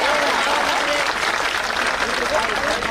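An audience at a public gathering breaks into dense, sustained applause that fills the whole short stretch, with a voice talking over the clapping.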